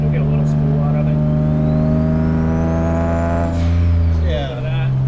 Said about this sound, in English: You don't even have to be in boost, and you'll get a little spool out of it.